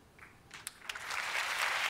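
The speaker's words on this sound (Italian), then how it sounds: "Applauso. Applauso, applauso" Studio audience applause on a TV talent show, building from a few scattered claps into a dense, swelling burst of clapping that cuts off abruptly, heard fairly faint and alone.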